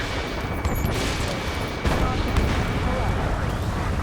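Gunfire and jet engine roar in the Ace Combat 7 video game, set in a city under martial law: a dense, steady wash of rumbling noise with scattered bursts of shots, loud and continuous throughout.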